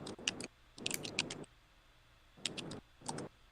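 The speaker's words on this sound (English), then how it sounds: "that is Alex who's typing, not one of the competitors" Bursts of typing on a computer keyboard, quick clusters of clicking keystrokes separated by short pauses, close and fairly quiet with no voices.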